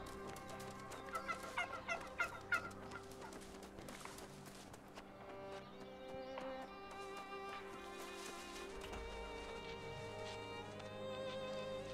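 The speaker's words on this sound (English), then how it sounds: "we'll let some of the turkeys live" Turkeys gobble and cluck in a forest area of the online role-playing game New World, a run of sharp calls early on that fades into a steady background bed.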